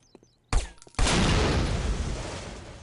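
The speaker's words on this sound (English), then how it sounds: "That was tiny. That was barely an explosion." A small explosion at a petrol station in the video game Postal 2: a sharp initial bang, then a second louder blast that settles into a sustained crackling roar of fire and debris.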